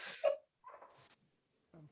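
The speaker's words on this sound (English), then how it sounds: "Please excuse my dog" A female dog whimpering for attention indoors: a few short, faint whines and breathy whimpers, separated by quiet gaps.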